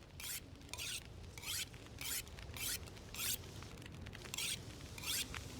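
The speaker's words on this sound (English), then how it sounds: "Now we'll do just a little bit more sharpening." Tool sharpening in the survival game The Long Dark, a steady series of about ten rasping scrapes at an even rhythm, moderately faint over a low background hum.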